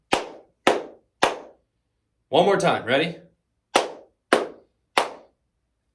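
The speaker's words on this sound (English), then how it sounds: "Do those 3 claps." Three single hand claps spaced evenly, then a short spoken prompt, then three more sharp claps, each crisp and close in a quiet room.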